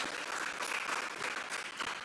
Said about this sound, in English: Y'all keep clapping